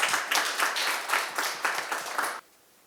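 Audience applause at an ecotourism forum lecture, a short burst of clapping with rhythmic pulses that cuts off abruptly near the end.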